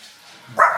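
A friend's small dog gives a single short bark, sharp and fairly loud, after a quiet moment indoors.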